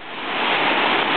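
Waterfall at Luang Prabang pouring down as a steady, loud broadband rush, close and continuous with no voices over it.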